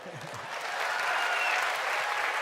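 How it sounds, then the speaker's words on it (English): Ballet audience applause swells quickly and holds, a dense wash of many hands clapping together. "please give us thunders of applause"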